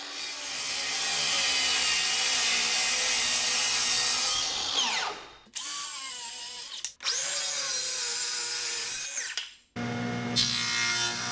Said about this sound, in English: now I'm going to be cutting more pieces for the inside of the cabinet